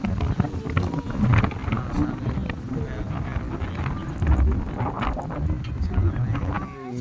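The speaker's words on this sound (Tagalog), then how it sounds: "Malakas na hangin ngayon." Strong wind buffets the microphone in steady low rumbling gusts throughout, loud and close, with speech-like sounds mixed into the roar.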